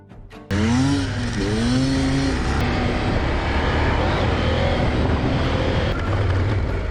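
A KTM 790 Adventure motorcycle riding off-road, its engine suddenly loud and close as the throttle opens, then revving up and down in a continuous roar with wind rush.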